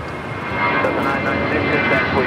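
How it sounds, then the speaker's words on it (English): An Airbus A321neo airliner takes off at LAX, giving a steady broadband roar that holds loud through the clip, with talk over the top. "That's an A321 Neo."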